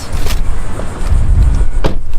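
Someone gets into a car, with a sharp door clunk near the start and another near the end over steady low rumbling and rustling movement, close and fairly loud.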